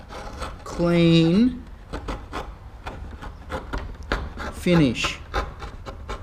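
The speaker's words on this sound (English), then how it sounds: "we need to make sure that that chisel's nice and sharp so that when it does pare off, it doesn't split any of the timber" A sharp chisel pares timber with short, rasping, scraping strokes, repeated several times at close range, while a voice talks over and between them.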